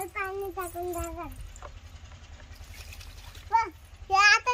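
Water poured from a bucket onto a plant at home, a low splashing trickle running beneath a young child's and adults' chatter.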